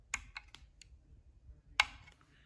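A reset button on a septic air pump is pushed, giving a few faint plastic clicks close by, then one sharper click a moment later in otherwise quiet surroundings.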